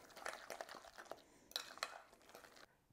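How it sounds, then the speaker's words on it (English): Fresh, creamy, chunky homemade guacamole being stirred in a bowl, a quick run of soft, faint scraping and clinking strokes with a short pause partway through. "Give it another stir."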